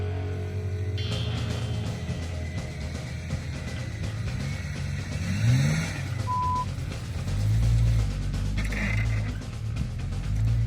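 A bus reverses during a Bridgestone 4x4 Club off-road challenge, its reversing beeper giving a short tone over engine rumble, mechanical clunks and the low grind of the vehicle working across rough ground.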